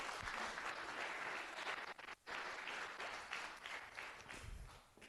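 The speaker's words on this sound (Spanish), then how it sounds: "Denle una ofrenda de palmas al Señor" A church congregation claps steadily during a Spanish-language service, a dense continuous round of applause with a brief dip partway through before it resumes.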